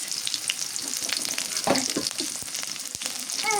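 Onion fries in a generous amount of oil with cumin and chili, giving a continuous close sizzle and crackle over a few seconds.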